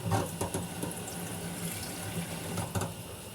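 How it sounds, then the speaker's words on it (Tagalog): Mineral water pouring into a cooking pot in a home kitchen, a steady liquid stream splashing close by for a few seconds with a faint clatter, no talk. "mineral water po kasi nilalagay ko dyan"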